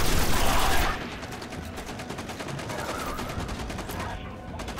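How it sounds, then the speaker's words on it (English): An enemy Colossus in the video game Destiny fires a gigantic Gatling gun in a rapid, steady stream of close, loud shots, preceded by a brief burst of heavier noise. "Now I've just got Mr. Colossus back there. With his gigantic Gatling."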